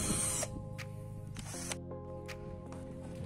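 A Ryu RCI20V cordless impact drill boring into wood gives a steady whining motor hum with a shift in pitch partway through, quiet and close, with no talk.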